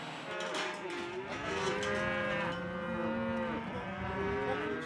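Cattle bellow and moo repeatedly during an outback muster in remote South Australia as ringers drive the herd toward an enclosure, several animals calling over one another in a steady, loud chorus with no talk.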